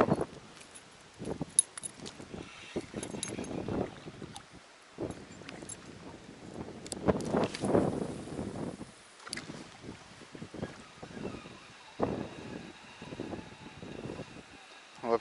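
Strong wind buffets the microphone in irregular gusts and rumbles while pike fishing, with someone speaking Russian intermittently through the noise.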